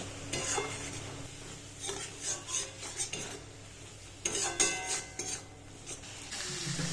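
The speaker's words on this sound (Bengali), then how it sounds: "দিয়ে ভালো করে মশলাটা এবার কষিয়ে নেব" Spice masala with chilli powder and cumin powder is sautéed in a pan, with close, irregular metallic stirring scrapes and clinks over a soft sizzle that rises and falls.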